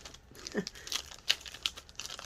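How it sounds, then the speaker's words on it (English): A resealable plastic bag holding a diamond art canvas crinkles in short, close bursts, with sharp crackles and rustles spaced irregularly between quieter moments. "your canvas will come in this plastic bag"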